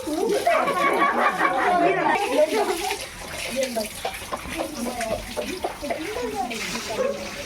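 Water is poured and splashes at a Tamil temple festival for Amman and Mariamman, a continuous gushing and splashing heard close by under excited chatter and voices calling out instructions.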